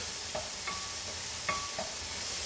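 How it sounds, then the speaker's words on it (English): Tomato veggie pasta sauce made from fresh ingredients cooking in a pan, a steady close sizzle with a few brief stirring scrapes over it. "This tomato sauce doesn't take long to cook."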